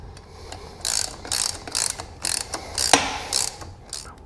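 Ratchet tightening the drain plug on a BMW R1250GS final drive, a run of rapid metallic clicking strokes in a steady back-and-forth rhythm, close and clear.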